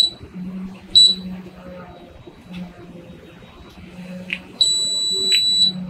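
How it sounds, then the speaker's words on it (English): An RV lock key fob pairing gives a short, high electronic beep, then a quiet stretch with faint clicks, followed by a longer steady confirmation tone over low background noise. "You hear the little beep, you press the lock button, the long beep to confirm"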